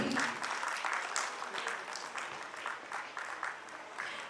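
Audience at a school annual function claps for a class 8 student achiever; a dense, steady patter of hands runs throughout at moderate distance, with some voices mixed in.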